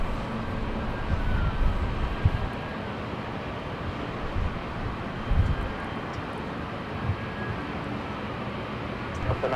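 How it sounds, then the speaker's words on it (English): A JetBlue airliner touches down on the north runway at LAX, its engine roar a steady, moderately loud broadband rumble with brief swells, heard from a distance without any talk. "Nice smooth touchdown for JetBlue."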